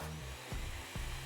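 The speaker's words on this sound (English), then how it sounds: "it's a vacuum." A robot vacuum cleaner from Genshin Impact runs with a steady whirring drone, its motor pitch dipping and rising in two brief pulses, close and moderately loud without speech.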